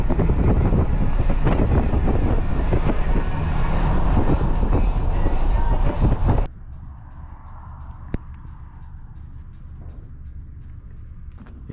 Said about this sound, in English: this is definitely a nice winter storm